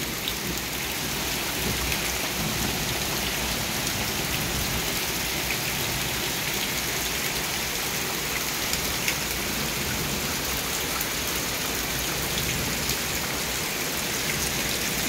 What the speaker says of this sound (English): Thunder never stops.